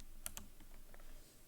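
Quiet keystrokes on a computer keyboard as a command is typed, with a few sharp clicks at first and then softer taps, faint and without speech.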